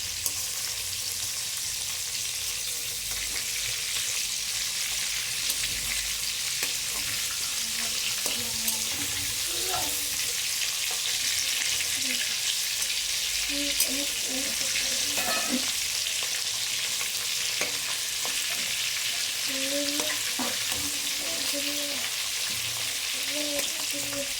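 Prawns frying in hot oil for prawn malai curry, a continuous even sizzle lasting throughout, with occasional soft clinks and turning sounds in the pan.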